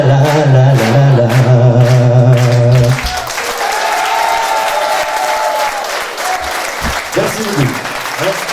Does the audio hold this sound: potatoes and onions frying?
no